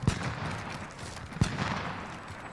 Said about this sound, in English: Getting sniped from somewhere.